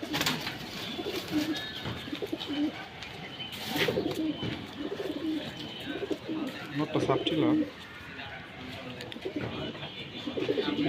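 Pigeons coo in overlapping throaty bursts close by and at a steady rhythm, with people talking intermittently over them.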